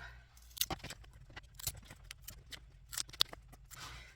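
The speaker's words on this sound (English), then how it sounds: "I'm just going to cut the ends off of these to square them up" Scissors snip the ends off dollar-store craft pieces to square them up, a quiet run of sharp, crisp cuts in an uneven rhythm, close by with no talking.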